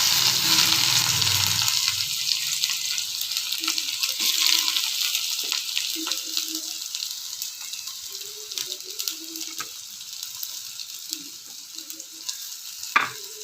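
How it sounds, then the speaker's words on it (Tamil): Hot oil sizzles in an iron pan with a steady hiss as mustard and fenugreek seeds crackle and pop irregularly, loudest at first and settling into scattered pops. "ஒரு இரும்பு சட்டியில் எண்ணெய் சேர்த்துட்டு, எண்ணெய் சூடானதும் கடுகு வெந்தயம் சேர்த்துட்டு, கடுகு பொரிஞ்சதும்"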